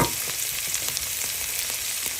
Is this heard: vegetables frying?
yes